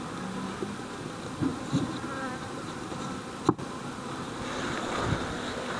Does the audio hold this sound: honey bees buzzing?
yes